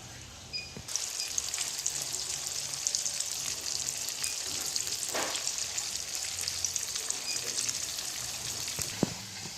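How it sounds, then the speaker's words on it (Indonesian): Peeled boiled eggs fry in hot oil in a pan, giving a continuous close sizzle with light spattering crackles and a couple of sharper clinks. "telurnya sedang digoreng"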